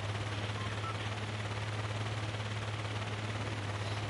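Sustained heavy assault rifle fire in a shooter video game, a steady dense stream of rapid shots at constant loudness with a low mechanical hum underneath and no voices.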